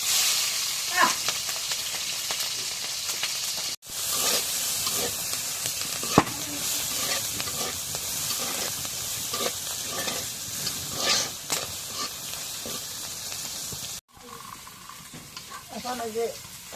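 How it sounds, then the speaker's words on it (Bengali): Onion, garlic and green chilies fry in oil in a wok, giving a steady, close, loud sizzle with scraping stir strokes that runs almost unbroken, pausing briefly twice. "এখন ওই যে পেঁয়াজ রসুন সব কিছু তেলে ভাজা হয়েছে"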